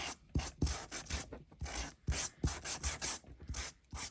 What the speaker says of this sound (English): just give it a little sand